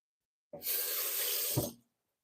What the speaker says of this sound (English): I gotta wash my hand